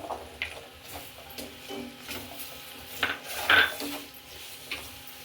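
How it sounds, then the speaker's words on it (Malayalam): Carrots and beans go into a pot for Kerala koottukari, giving soft clattering knocks and scraping against the vessel, a few sharper clinks standing out, close and fairly quiet. "ഇനി കാരറ്റ് ബീൻസ് ഇട്ട് കൊടുക്കാം"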